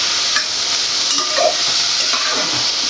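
Onions softening in oil over a low flame, a gentle, even hiss with faint scattered pops and a light stir or two, fairly quiet and steady, no voices.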